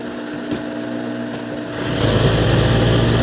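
An old, long-unused sewing machine of the kind used for hemming shirts runs steadily up close, a continuous mechanical whir that grows louder and fuller partway through, with no talking.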